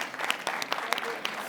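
An audience applauds at a conference theatre session, a steady spatter of many hands clapping with scattered louder claps, no voices on top.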